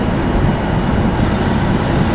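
A 1965 AMC Rambler Marlin engine settles as the driver lifts off the gas at about 45 mph, heard from inside the car as a steady, loud, broadband road and engine roar with no talking.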